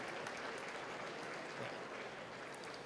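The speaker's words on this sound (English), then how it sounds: "Give him another round of applause." Steady applause from a large gala audience celebrating a community organization's 40th anniversary, a dense continuous patter of many hands heard at a distance, filling the room evenly from start to finish without any voices on top.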